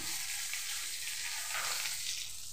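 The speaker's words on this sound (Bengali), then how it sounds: "আর এইভাবে বড়াগুলো আমি ভেজে নিলাম আর তুলে নিচ্ছি" Rice-batter fritters (bora) made with Kodom leaves, shidol and dried fish frying in hot oil, a steady dense sizzle that continues without pause and swells slightly near the end, close and alone without any voices.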